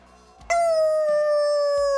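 A person imitates a dog with a single long, loud howl-like note that starts suddenly and holds steady, sliding slightly lower, in an esports broadcast setting.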